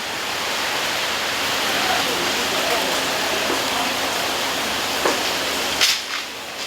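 Steady rain shower pours down at Jeodong fishing port fish market on Ulleungdo while squid are cleaned, a continuous hiss with a few faint knocks and clatters near the end.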